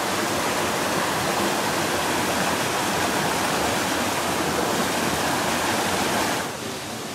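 A mountain river rushes through a rocky canyon in Crimea, a steady, loud broadband roar of water that continues without pause and eases slightly near the end.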